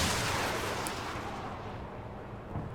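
A missile fired from the QN506 vehicle in War Thunder, with a loud, steady roaring launch and rumble that fades slowly over a few seconds, no speech.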